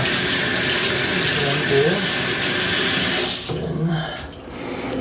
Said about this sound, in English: first you have to wash your hands obviously before you're making the meal